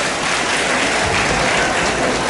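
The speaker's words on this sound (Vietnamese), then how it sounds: "Chúng ta tràng vỗ tay" A congregation at a church wedding ceremony breaks into loud, continuous applause, a dense wash of clapping sustained for a couple of seconds without speech.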